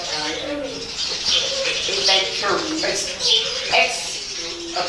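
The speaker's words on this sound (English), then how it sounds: "You can hear the birds." Birds call repeatedly outside a historic fort, with soft cooing mixed with brighter chirps close by, while a person talks over them at moderate volume.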